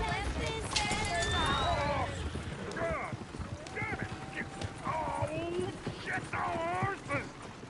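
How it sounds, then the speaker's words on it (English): Hooves clip-clop at a quick gallop in Red Dead Redemption 2 while voices talk and shout over them, with a horse whinnying briefly. "Damn horses!"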